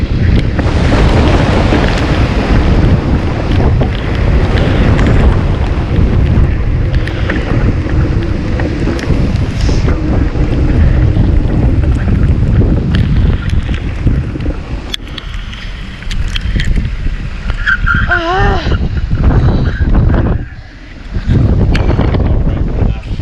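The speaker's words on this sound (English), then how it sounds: "it's hailing and thundering, and I can't see Ryan" Heavy, dense roar of hail and rain battering down during a thunderstorm, with wind noise buffeting the microphone throughout and a brief dip near the end.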